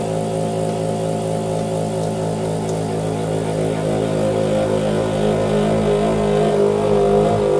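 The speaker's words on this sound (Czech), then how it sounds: "Stisknutím tohoto tlačítka zahájíte automatický cyklus vakuování a sváření." A VAC-STAR EASY PRO vacuum sealer pump runs as a steady, close droning motor hum, holding an even level throughout with no voices.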